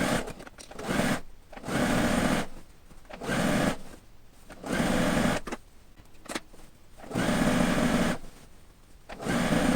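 A sewing machine stitches bias tape onto a patchwork quilt coat, running in five steady bursts of about a second each, separated by short pauses while the fabric is folded and fed.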